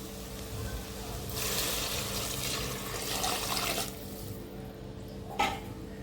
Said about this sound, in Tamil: இப்போ இதால் நான் இப்போ மூணு கிளாஸ் தண்ணி ஊற்றப்போகிறேன்